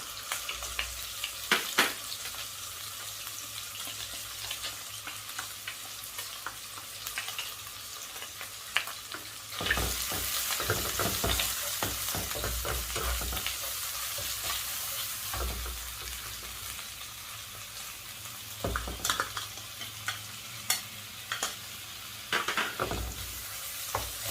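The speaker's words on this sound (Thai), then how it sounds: "จากนั้นนะคะเราก็เอากะปิเนี่ยค่ะ ที่เราตำไว้นะคะ ลงไปผัดเลยค่ะ" Pounded shrimp paste being stir-fried in a pan, with a soft continuous sizzle broken by repeated scraping and clacking strokes of a spatula. It grows brighter partway through and carries no talk.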